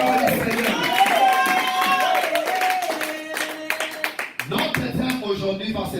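A church congregation claps steadily and acclaims during a French-language worship service, the rhythmic clapping mixed with voices and sustained tones, then giving way to scattered claps and speech toward the end.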